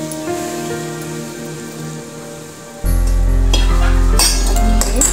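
Hot oil poured over flour for crisp shankarpali dough sets off a sudden loud crackling sizzle, followed by mixing sounds, with music playing throughout.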